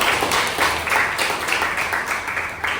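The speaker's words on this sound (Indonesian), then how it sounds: "Tepuk tangan pintar-pintar." Students in a classroom clap together, a short burst of scattered hand claps that stays fairly loud and even, with a bit of chatter mixed underneath.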